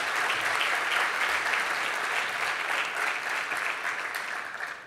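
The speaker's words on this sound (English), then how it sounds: "Let's give Hania and Dwayne another round of applause." At a New Jersey benefit dinner, a roomful of people applauds in a dense, sustained roar of clapping that holds steady and fades slightly toward the end.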